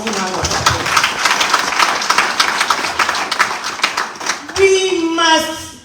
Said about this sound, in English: Please give them a rousing round of applause.